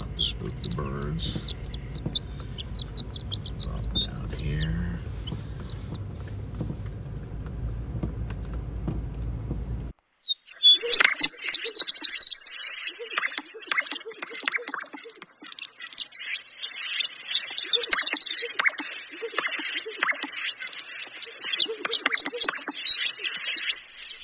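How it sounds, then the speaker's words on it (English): Birds call near a sage grouse lek in open country, the calls mixed with insect-like chirps; a low rumbling passage gives way after a short gap to brighter, busier calling. "We've got to approach it very slowly, not to spook the birds."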